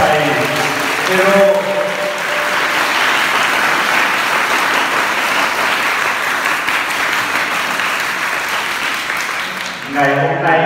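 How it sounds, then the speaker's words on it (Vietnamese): Children in a parish youth group applaud loudly together in a dense, sustained burst of clapping that briefly follows and then gives way to a voice. "các con nổ một tràng pháo tay thật to thật giòn"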